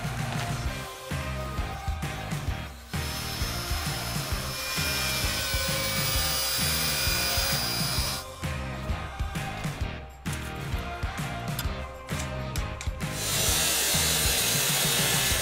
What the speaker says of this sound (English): this is what takes the long time, is to grind off all the rust before we cut it up